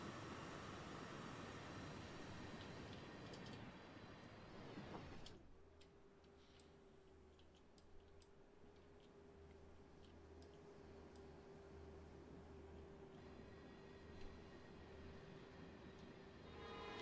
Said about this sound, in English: Got the train moving.